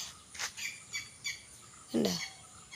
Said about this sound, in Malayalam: കണ്ട ആ കിളിയാണ് കൂട്ടുകാരെ സൗണ്ട് ഉണ്ടാക്കുന്നത്